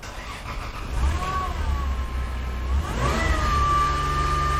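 A badly wrecked Toyota Land Cruiser with a sticking gas pedal, its engine running close by and revving up and down twice with a whining pitch rising and falling over the steady idle.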